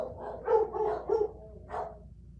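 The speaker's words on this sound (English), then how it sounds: "I hear some dogs barking in the other room." Several dogs bark from another room, a run of muffled, mid-distance barks in quick bursts followed by a pause and one more bark, with no talking over them.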